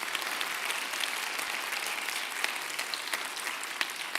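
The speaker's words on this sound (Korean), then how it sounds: "위에 있는 선배님들에게 수고하셨다고 큰 박수 한번 보내주세요." Students in a university hall applauding their seniors, a dense continuous rain of clapping from a large crowd, even in level and somewhat distant.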